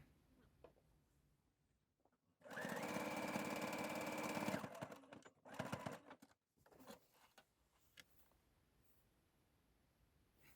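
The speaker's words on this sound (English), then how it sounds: "I don't have any pins or anything while I'm sewing my hem" A sewing machine stitches a hem on stretch fabric close by. One sustained run of rapid stitching is followed by a few shorter bursts and faint handling sounds in between.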